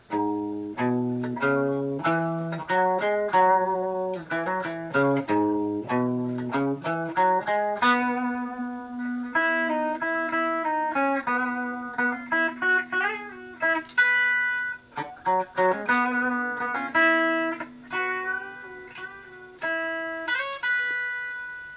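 A melodic electric guitar solo of quick picked notes and sustained bends, played alone and clean to lightly driven, moving up and down the neck.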